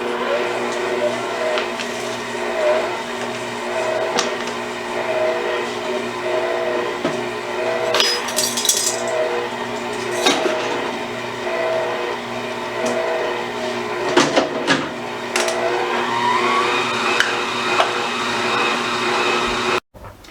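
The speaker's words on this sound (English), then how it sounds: "now we're just going to put it on the mixing stand and we're going to mix it till it's creamy" A stand mixer churns crab stuffing for stuffed mushrooms until creamy, a steady close whirring drone with a few louder clunks and scrapes partway through, running continuously with no talk.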